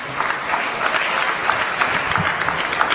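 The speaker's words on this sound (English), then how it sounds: "Give her a big round of applause." Audience members at a lecture applaud a guest being introduced, with steady, dense clapping that fills the room evenly for a few seconds.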